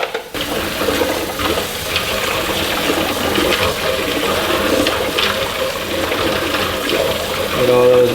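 Steady rushing cold water runs continuously from a tap onto hot eggs, with clinking and rattling in the sink, plus a brief mechanical clatter near the end.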